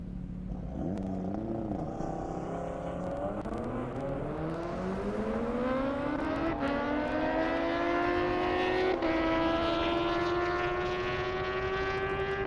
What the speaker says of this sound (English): Kent Seckler in the ZX-10, Christopher Ampersetti in the Audi RS3.